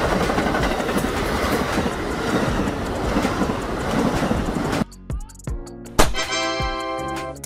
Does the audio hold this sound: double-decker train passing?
yes